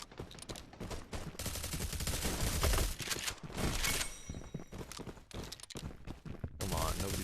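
Rapid, dense gunfire from a shotgun battle in a video game, with loud overlapping blasts packed through nearly the whole stretch and brief gaps between bursts.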